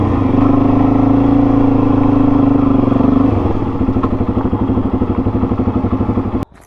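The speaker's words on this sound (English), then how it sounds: "the tractor. She's coming down to cut the grass." A tractor's steady engine drone with a low rumble, then a rhythmic chugging clatter as it mows grass, ending in a sharp thump and sudden quiet.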